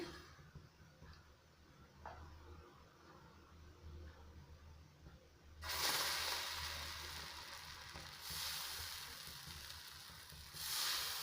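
A cut potato rubbed across a hot tawa before making instant rawa dosa, quiet at first and then bursting into loud sizzling in a few surges.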